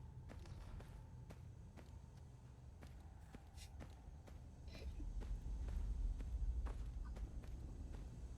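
Footsteps in Fallout 4, a run of soft, regular steps off to one side under a low rumbling game ambience that grows louder toward the end.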